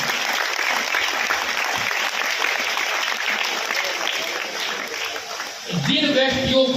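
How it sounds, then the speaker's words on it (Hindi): Loud, dense applause from an audience at a Hindi-language gathering, steady for several seconds, with a voice starting to speak over it near the end. "जोरदार तालियां होनी चाहिए"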